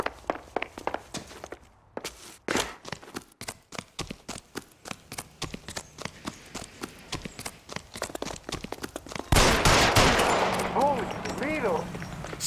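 Gunshots in L.A. Noire ring out as a long run of sharp, rapid cracks in irregular bursts, fairly close. A louder, noisier stretch with voices shouting follows near the end.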